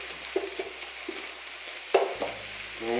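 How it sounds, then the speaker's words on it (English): Ground meat with dried thyme and basil cooking down in a pan for crockpot chili, giving a quiet sizzle with a few soft spoon scrapes and stirring knocks, louder around the middle. "Let the meat cook down."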